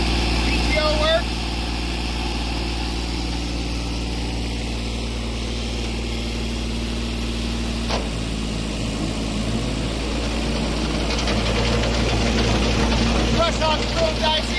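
A Kubota tractor engine idles steadily at an outdoor auction, a constant low drone running unbroken throughout, with a sharp click partway through and a person talking over it.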